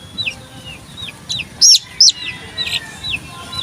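A young chick gives a few sharp, high chirps close by while medicine drops are put in its beak, the peeps spaced irregularly over faint background noise.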